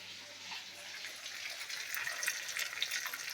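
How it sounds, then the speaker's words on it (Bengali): Soft hissing sizzle of potatoes frying in oil, faint and steady, growing slightly busier with small crackles toward the end. "এখানে আলু ভাজা হচ্ছে"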